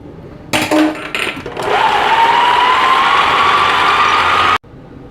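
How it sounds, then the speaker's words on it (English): An electric mixer beats cookie dough with eggs and vanilla; after a few brief clattering knocks, the motor whirs loudly and steadily, its whine rising slowly in pitch for about three seconds before cutting off abruptly. "Let's go in with our eggs and our vanilla and give it a mix for about another 2 minutes"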